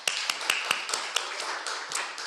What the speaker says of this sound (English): big round of applause for Sun Business Network